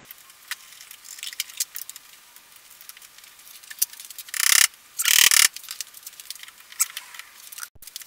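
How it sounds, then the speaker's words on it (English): A ratchet wrench removes the battery from a Subaru WRX during an engine teardown, making rapid close clicking in short runs with two louder, denser bursts midway, alone in a quiet garage. "let's get started by removing the battery"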